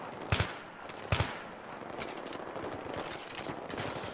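Bursts of gunfire in Battlefield 3, two sharp loud volleys close together followed by softer rattling shots and distant firing continuing underneath.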